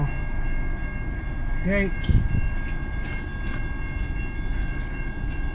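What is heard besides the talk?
CN M383 southbound freight train passing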